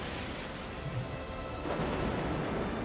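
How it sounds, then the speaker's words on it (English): Thunderstorm ambience from the video game Unicorn Overlord: steady rain with a low rumble of thunder rolling in, growing louder toward the end, with no voices. "That thunderstorm travels super fast."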